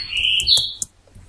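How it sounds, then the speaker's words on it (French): Shrill chirping tones in a French comedy series scene, a sustained high whistle followed by several short bright chirps, close and fairly loud with no talking over them. "tu entends le bruit des oiseaux?"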